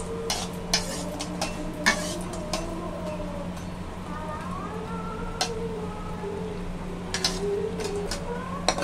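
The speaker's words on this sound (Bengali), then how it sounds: "কটা বড়ি ভেজে নিচ্ছি।" Gentle frying sizzle of lentil dumplings in oil with occasional light clinks of a utensil against the pan, fairly quiet and close, a faint hum underneath.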